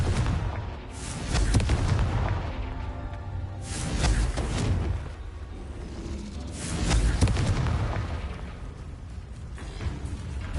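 Confringo fire spell explosions in Hogwarts Legacy, a few heavy booming blasts spaced several seconds apart with rumbling tails, over continuous game ambience.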